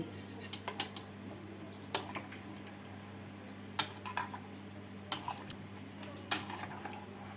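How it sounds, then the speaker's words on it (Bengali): Potatoes being stirred in a pot of hot water for a Kashmiri aloo dum, with light scattered clinks of a utensil against the pot over a steady low stove hum. "জল দিয়ে আলুগুলোকে নেড়ে দিচ্ছি"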